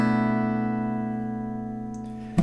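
A single strummed acoustic guitar chord, the opening chord of a song, rings out clearly and decays slowly over about two seconds before a brief string noise at the end; no voices.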